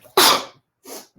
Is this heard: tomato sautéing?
no